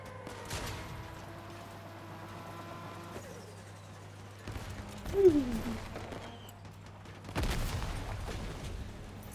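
Scorpion weapon fire in the vehicle-combat game Crossout: a few heavy, separate booming shots spaced seconds apart over a low engine hum and battle noise.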